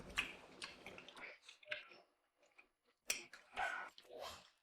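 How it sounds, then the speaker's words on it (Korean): Wet smacking chewing sounds come in short bursts with quiet gaps, close to the mic, plus a few soft clicks. "밥 먹을 땐 쩝쩝대지 좀 마시라고요."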